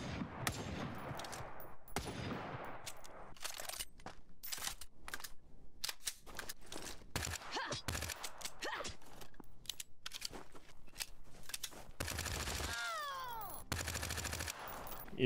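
Gunfire in the survival video game Front, with bursts of rapid shots and scattered single cracks running through the clip at moderate loudness, over footsteps and rustling movement, with no talking.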